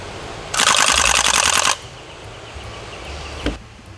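A Sten MK2 gas blowback airsoft gun fires 0.2g bio BBs in a single rapid full-auto burst of about a second, loud and close and crisp with rattling bolt action, then one short sharp click follows. Nobody speaks.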